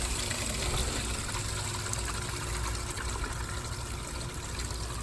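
Water is poured into the side of a window air conditioner, giving a faint, steady trickling and gushing wash under a low hum.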